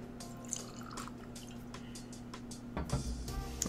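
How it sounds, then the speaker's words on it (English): E.H. Taylor barrel proof bourbon pouring into a glass, a quiet liquid trickle with small drips and splashes, close and faint, ending in a slightly louder burst of handling noise. "Pour it in this one."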